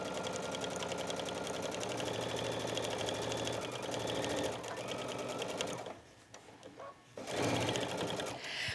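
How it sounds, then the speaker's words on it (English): A sewing machine runs steadily, stitching binding onto a fabric pouch for an electronic tablet with a 1/4 inch foot, a dense continuous whir that pauses briefly near the end before resuming. "And I stitch the binding to the bag,"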